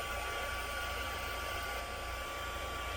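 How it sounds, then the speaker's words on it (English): A handheld craft heat tool blows steadily to dry pigment ink, making a loud, constant whirring rush of air with no pauses. "I'm going to bring my heat tool back in, as it is a pigment ink, and it does take it just a second to dry"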